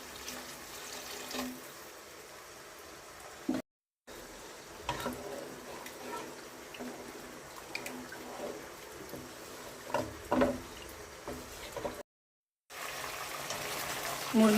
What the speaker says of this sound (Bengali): খিচুড়ির মধ্যে গরম পানি দিয়ে দিচ্ছি।